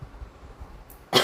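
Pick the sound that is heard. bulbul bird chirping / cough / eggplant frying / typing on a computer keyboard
cough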